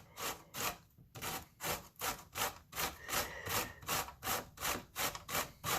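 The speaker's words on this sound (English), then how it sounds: "Now we're going to grate our zucchini." Zucchini rasped across a box grater in steady, regular strokes, about a dozen rhythmic scraping passes close up with no talking.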